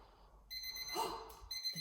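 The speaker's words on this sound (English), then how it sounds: "We'll put the timer on, and then as it beeps," A tidy-up timer in a children's nursery beeps in short bright electronic tones, a few spaced beeps over quiet room background, fairly faint and close.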